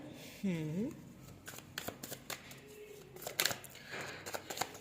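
Tarot cards are riffled and shuffled close by in soft, papery bursts, with a person's voice talking over parts of it.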